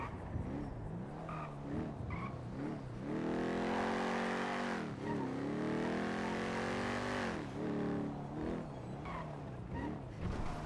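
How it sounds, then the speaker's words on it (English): A slow, quiet car drives along, its engine note rising and falling through repeated revs, with long smeared stretches of tire noise in the middle and no talking. "This car seems fucked, but it's not. It's just slow and quiet."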